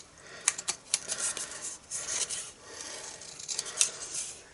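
Quiet, uneven rasping snips and scrapes as scissors trim paper overhangs off a handmade Christmas sandwich-style gift box, a few sharper cuts among softer rubbing, close up and alone.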